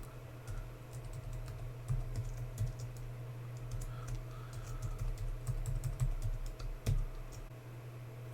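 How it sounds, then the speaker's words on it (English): A password being typed on a computer keyboard, steady rapid key clicks and taps close by over a low background hum, with no talk. "I'll just go ahead and put my password in now."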